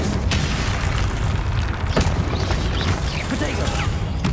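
A Confringo fire spell blasts in the Hogwarts Legacy video game, with dense booms and bursts, a sharp hit near two seconds, layered over continuous game combat noise.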